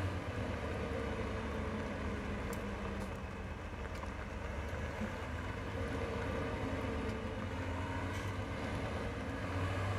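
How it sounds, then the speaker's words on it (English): A Deutz tractor engine idles and runs in Farming Simulator 17, a steady low diesel drone holding at an even level throughout with no speech. "Into the Deutz. Fire it up. Great sound on this tractor."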